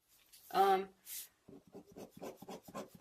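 A pencil shading surfaces on paper for a two-point perspective drawing, soft rhythmic scratchy strokes repeating closely, with a brief voice at the start.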